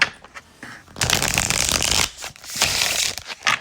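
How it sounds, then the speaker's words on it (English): Tarot cards being shuffled by hand at close range, a dense papery riffling and rustling that comes in bursts with short pauses, with no talk over it. "One more shuffle."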